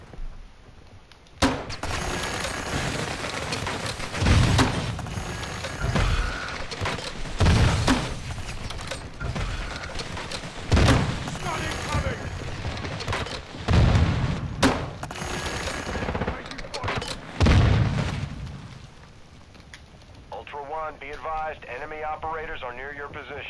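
Call of Duty combat with repeated bursts of automatic gunfire and booming explosions, loud and sustained, over a radio voice and squad chatter, with a rising electronic warble near the end.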